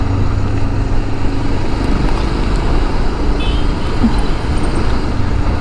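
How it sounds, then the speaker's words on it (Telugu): A Bajaj Pulsar 220F BS6 motorcycle, 2021 model, rides at speed, giving a steady, loud engine and road drone with wind rush that holds evenly throughout. "ఈ స్పీడ్లో కూడా ప్రశాంతంగా వెళ్ళిపోతుంది బండి."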